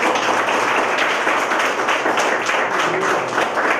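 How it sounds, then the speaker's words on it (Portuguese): Church congregation applauding after a closing prayer at a discipleship workshop, a dense steady wash of many hands clapping at close range that holds for the whole stretch, with a faint voice under it. "Vamos aplaudir o Senhor."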